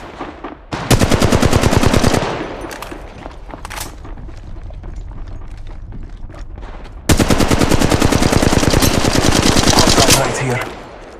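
Machine gun fire in the mobile shooter Apex Legends Mobile: two long, loud, rapid bursts of automatic shots separated by scattered single shots and quieter gaps, with a brief spoken line in between.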